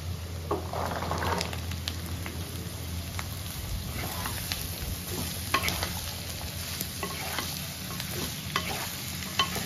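Onions and potatoes fry in oil in a pan as part of a drumstick vegetable curry. The sizzle is close and steady for nearly ten seconds, punctuated by sharp scraping strokes of a spatula stirring.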